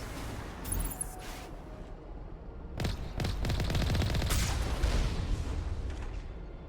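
Bursts of gunfire from a gun turret in the video game Mass Effect Legendary, with sharp shots starting near the three-second mark and then a dense, sustained rattle of rapid fire over a low rumble.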